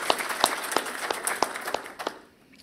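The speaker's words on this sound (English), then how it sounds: "Round of applause for Mr." Applause from an audience at a mayor's employee recognition awards ceremony, a scattered round of clapping with distinct individual claps that thins out and fades near the end.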